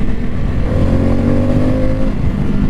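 Harley-Davidson Pan America motorcycle pulls hard after a downshift, its engine roaring loud and close as the revs climb steadily under wind noise.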